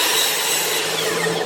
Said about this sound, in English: So this time I've got the bevel cut at 10, and I'm going to cut a piece which will be just the right size to go in there.